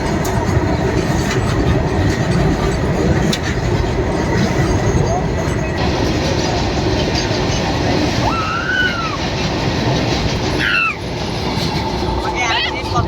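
A coal freight train passes nearby, its continuous rumble and clatter filling the scene, with a brief squeal of wheels and a voice talking over the noise.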